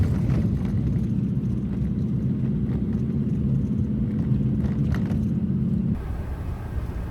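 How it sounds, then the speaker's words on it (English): Aircraft flying overhead near a busy road toward Troon, a steady loud low rumble mixed with traffic noise that drops off abruptly near the end. "Ah, there's a plane."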